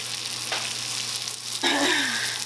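Red onion sizzling in infused olive oil in a pan, with a steady broadband fry that jumps louder as the onion hits the hot oil partway through, alone with no talk.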